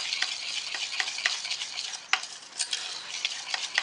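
Cake batter with powdered sugar and vanilla powder being mixed in a bowl for a white sponge cake, a busy run of close scraping and tapping stir strokes, no talk.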